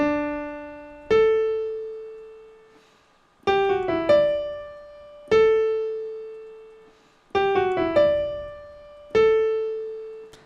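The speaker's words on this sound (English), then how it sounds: "That's what a perfect fifth sounds like." Piano notes sound a perfect fifth, low then high, repeated at a slow pace with each tone left to ring and fade.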